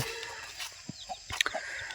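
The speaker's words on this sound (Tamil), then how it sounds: "கோழி இருக்குது பாருங்க." Farm chickens cluck in short, quiet bursts, a few brief calls scattered over a low background.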